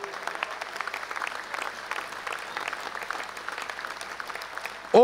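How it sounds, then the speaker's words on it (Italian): Crowd applause at a political rally in Milan, sustained and moderately distant, with scattered claps and a little crowd noise, ending in a sudden loud burst. "fate arrivare un applauso a sindaci che si dannano l'anima dalla mattina alla"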